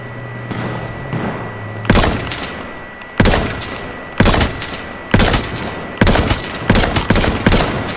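Gunfire in PUBG on PS4 comes as loud, sharp bursts spaced about a second apart, each cracking hard with a ringing tail over a steady background hum. No one speaks.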